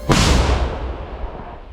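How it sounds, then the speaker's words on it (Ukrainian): An SPG recoilless gun fires a single shot at a mortar position, a sharp close blast followed by a long rolling boom that slowly fades out. "Постріл!"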